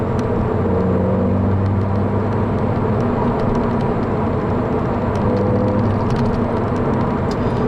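Engine of a 2010 Volkswagen GTI with a six-speed manual pulling hard in fourth gear on a night drive, a steady loud cabin drone with road roar and wind, no talk.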